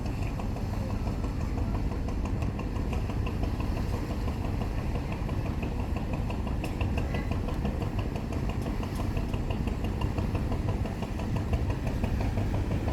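The engine of the passenger launch Swarnadweep 7 drones steadily as it slows near a river ghat, a continuous low rumble with no clear change across the span and no speech.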